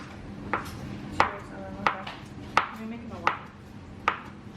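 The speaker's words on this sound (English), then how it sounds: "So I'm just chopping this" A kitchen knife chops food on a cutting board during Thanksgiving cooking, six sharp even knocks about two-thirds of a second apart, close and clear over a faint room murmur.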